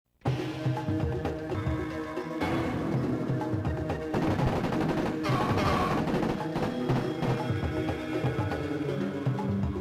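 Gunfire in the Corpse Killer shooting-gallery light gun game fills the clip with dense, continuous bursts of shots and blasts layered over game music and effects, loud and nearly unbroken.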